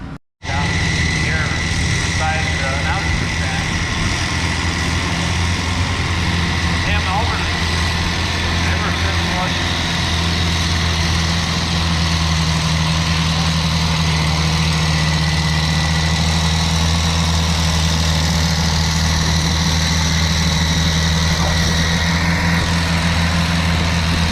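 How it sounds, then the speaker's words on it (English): An Oliver pulling tractor at a fall tractor pull in Lynden idles loudly and steadily with a deep, even rumble that runs without pause for the whole stretch. "Raeann will be up first between our tractors on the Oliver"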